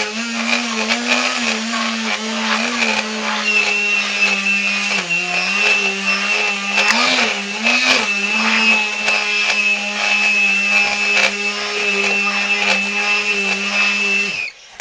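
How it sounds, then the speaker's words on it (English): A hearty stick blender whirs steadily while mixing hot process goat milk lye soap, a loud continuous motor drone with slight pitch wobbles as it works through the thick batter, running nearly the whole time alone. "All you need is a good hearty stick blender."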